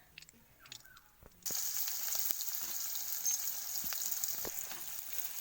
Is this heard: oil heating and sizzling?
yes